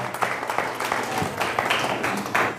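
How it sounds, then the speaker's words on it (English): Audience at a small magic show in Topanga breaks into scattered, moderate clapping for a few seconds, mixed with some voices. "You guys are supposed to clap now."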